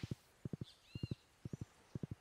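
Horse hooves clip-clop in a farming video game, five quick groups of three soft thuds each in a steady rhythm, close and fairly quiet, with a faint chirp in the background.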